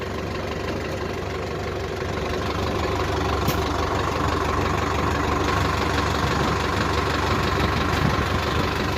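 A tractor engine idles with a steady, continuous mid-low rumble while a JCB loads soil into it at a village work site, with no talk.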